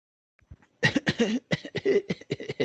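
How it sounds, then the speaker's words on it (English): A cluster of harsh, bursty coughs, close and fairly loud, coming in quick repeated fits with brief pauses between them. "hold on a second, I got a cough here."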